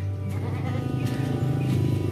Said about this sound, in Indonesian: Ini kandang kambing guys.